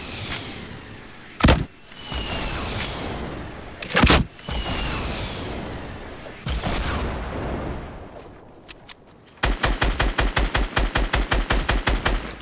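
Fortnite gunfire: a few single loud sniper-like shots spaced seconds apart, then a fast rhythmic burst of automatic rifle fire to the end, close and sharp with game ambience between.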